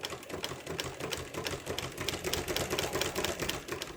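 A new Mannan King chain stitch embroidery machine, still being broken in, runs steadily as it stitches a patch, giving a fast, even mechanical clatter at moderate volume with no voices.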